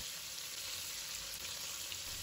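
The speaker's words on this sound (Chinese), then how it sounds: "再把豆腐一块一块地放入锅中，这样可以避免豆腐相互粘连。" Tofu pieces fry in hot oil in a salted pan, giving a steady, dense sizzle that holds at an even level throughout, close by and with no talk.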